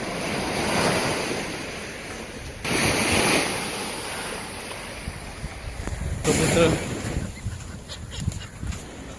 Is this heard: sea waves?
yes